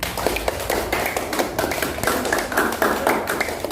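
Classroom children clap their hands in quick, uneven bursts, close and fairly loud, with taps and thumps mixed into the rhythmic patter throughout.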